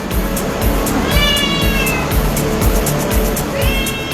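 Several cats meow at a cat park in Dungun, with drawn-out, rising calls near the start and again at the end over a steady background of chatter and low rumble.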